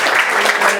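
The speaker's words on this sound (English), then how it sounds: "Let's give them a round of applause." Audience applause at a Conservative Party political event in Brooklyn, a steady dense wash of clapping held at even loudness through the brief moment.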